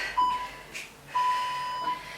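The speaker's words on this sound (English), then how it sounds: "Let me just stop the timer." Workout timer beeping: a thin electronic tone, first a short beep, then a longer sustained beep after a soft rustle, fairly faint against a quiet room.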